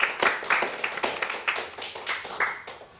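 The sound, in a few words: lecture audience applause for speaker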